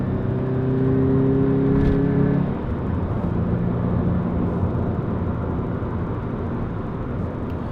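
A 2014 Toyota GT86 on winter tyres is driven fast along a B road, its engine droning loudly with a steady in-cabin whir and road roar, the pitch easing slightly after a few seconds.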